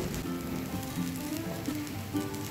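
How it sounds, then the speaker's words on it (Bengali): Lentils and rice frying lightly in a pan on medium heat for khichdi, a soft continuous sizzle with faint crackles and scattered small pops. "এবার কিন্তু মিডিয়াম আঁচে হালকা করে ভেজে নেব"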